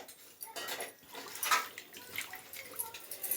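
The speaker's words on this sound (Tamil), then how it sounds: "வதக்கிட்டு கொஞ்சம் தண்ணி ஊற்றி வேக வைக்கணும்" Water poured into a pan of sautéed eggplant for gotsu, a short close splashing pour with light clinks of the vessel, moderately loud and alone.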